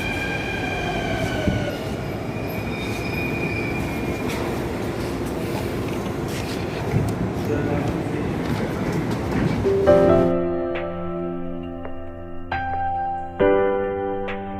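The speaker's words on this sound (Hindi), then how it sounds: "ये आ गई है हमारी मेट्रो जिसमें हमें जाना है" A Delhi Metro train rumbles loudly into the station, its roar building before braking; tonal hums and squeals follow as it slows to a halt.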